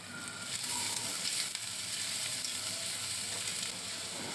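Onions sautéing in a pan for a dry prawn fry give a continuous close sizzle and hiss throughout, fairly steady in loudness with faint scraping of stirring, no voices.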